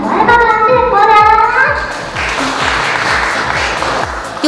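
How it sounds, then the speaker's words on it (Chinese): Warm applause from a crowd welcoming mayoral candidate Hsieh Kuo-liang at his campaign headquarters on Guangming Road in Qidu, Keelung, set up as a children's play area; steady dense clapping under a loud amplified voice. "用热烈的掌声欢迎我们的小爱爸爸谢国梁"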